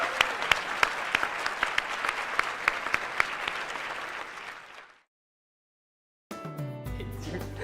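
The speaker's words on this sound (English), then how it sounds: "let's give them a round of applause" Audience at a Three Minute Thesis competition gives the finalists a full round of applause, with sharp individual claps standing out before it fades into silence and music follows.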